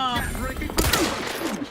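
A sharp gunshot bursts out in The Outer Worlds video game amid other game sounds, with a tonal voice-like sweep beforehand and a short burst of shots in the middle.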